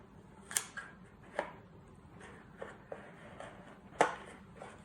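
Sharp scissors trim the overlapping excess of a bunny vinyl decal on an Easter egg box, giving several brief separate snips with quiet pauses between them.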